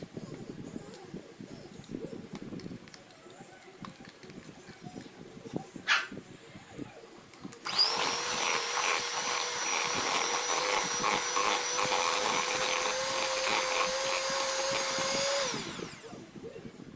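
An electric hand mixer beats butter, margarine and powdered sugar for nastar cookie dough, switching on halfway and running as a loud steady whirring whine for several seconds before cutting off; quieter clattering precedes it.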